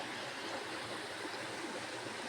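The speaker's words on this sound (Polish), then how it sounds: "patrzcie jaka ładna woda, która tak płynie, się łączy" Water flows steadily past a small wall, a constant broadband rushing like a little stream, close and even, with no voices.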